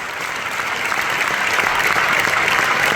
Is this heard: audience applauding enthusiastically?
yes